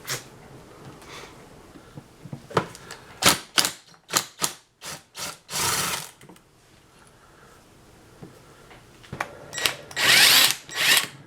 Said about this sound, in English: it runs, but it sounds like the bearings are shot in it